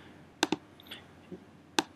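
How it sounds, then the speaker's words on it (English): A few sharp keystrokes tap on a computer keyboard, close and crisp, with two quick clicks, a pause, then another key press in an otherwise quiet room. "I can click and start typing in a new section"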